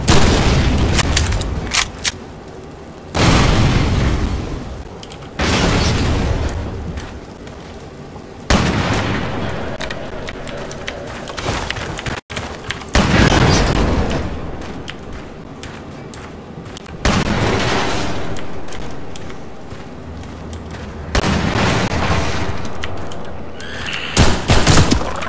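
Explosives detonating amid gunfire in Half-Life 2, with repeated loud bursts of blasts and rapid shots separated by brief lulls, close and heavy throughout.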